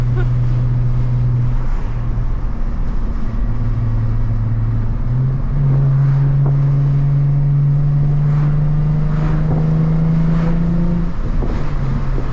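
A Nissan 350Z sports car engine drones loudly and continuously, its pitch rising steadily as it accelerates, then dropping back, with constant road and wind rush.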